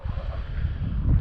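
Wind gusting across an open model plane flying field, a steady low rumble and buffeting against the microphone that swells louder toward the end, with no talk.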